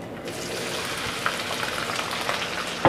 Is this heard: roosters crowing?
no